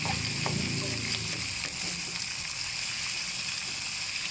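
Eggs sizzle in a hot pan of stir-fried wide rice noodles with pork for pad see ew, a steady, close, dense frying hiss throughout.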